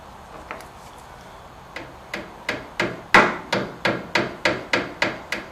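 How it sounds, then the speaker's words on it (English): Hammer tapping a part into place during lever shock replacement on an Austin-Healey, a run of about a dozen sharp metallic taps in an even rhythm, close and growing louder, with no speech. "This hammer's way overkill, but it's what I have in my hand."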